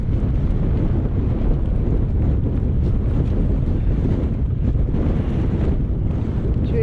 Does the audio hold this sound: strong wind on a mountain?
yes